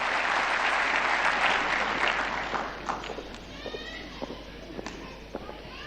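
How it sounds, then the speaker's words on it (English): Applause from a ceremony audience at a Kenyan culture event, dense and sustained at first, then thinning into scattered individual claps toward the end. "Let us give a big round of applause."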